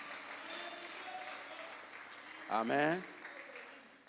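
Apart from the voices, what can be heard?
church congregation applauding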